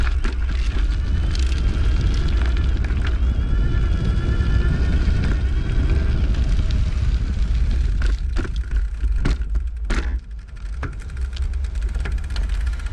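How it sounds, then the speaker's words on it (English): An EVELO Dash electric bike rides off-road, giving a steady rumbling drone of tires on rough ground with wind and occasional sharp knocks and clicks, close and continuous. "I'm gonna go off-road now and just see how the bike sounds"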